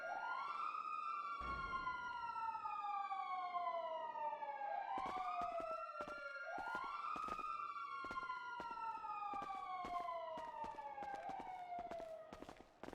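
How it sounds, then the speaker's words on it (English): Police sirens in the GTA V video game wail loudly and continuously, several overlapping tones sweeping up and down in repeated cycles, with sharp clicks and bursts scattered through the second half and no talk over them. "The sirens never stop."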